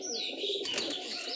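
Pigeons coo in a soft, steady murmur, with a few higher chirps mixed in, heard close and continuous through the short stretch.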